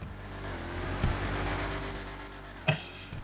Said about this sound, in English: As it bounces off the rev limiter because the wheels are spinning again.